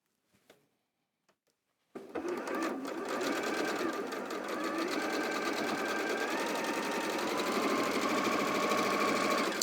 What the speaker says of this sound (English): So I'm going to sew this one on there first.